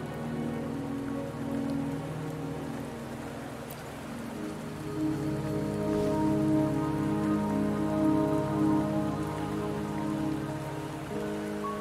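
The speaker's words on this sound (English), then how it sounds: "Don't worry, the rain won't last much longer." Rain falling in the video game Wuthering Waves, a steady, close patter of drops on surfaces with a soft continuous hiss and a faint low hum beneath, unbroken for the whole stretch and without voices.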